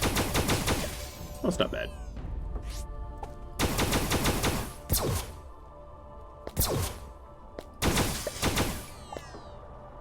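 Rapid bursts of automatic gunfire from a gun in the video game Starbound, several loud volleys separated by short pauses with sharp whooshing tails, while someone speaks briefly between shots.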